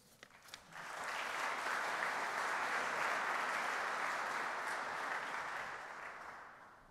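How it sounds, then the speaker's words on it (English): Conference audience applause at a quantum technology kickoff event in Vienna, a sustained wash of clapping that swells in after a second, holds steady and then tapers slightly near the end, with no talk over it. "So the European Commission has already gotten applause"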